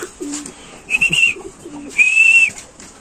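Close pigeons give soft low coos alongside a couple of clear, sustained whistle-like tones, in short phrases with brief pauses between them.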